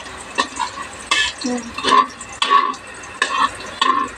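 Garlic stirred and browned in a frying pan, with repeated scraping strokes of a utensil against the pan over a light sizzle, several distinct stirs in a steady rhythm, close and clear.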